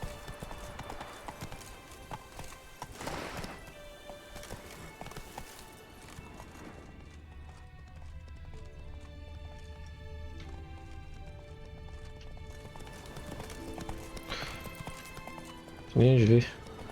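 Roach the horse gallops in The Witcher 3, with rhythmic hoofbeats that come in bursts amid game music and ambience, and a whinny near the end. Someone speaks briefly over it.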